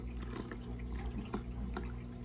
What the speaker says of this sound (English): And add a little bit of your tank water.